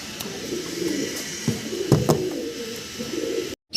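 Fancy pigeons at a farm coo in soft, repeated low calls, with a steady background hum and a brief silent gap near the end.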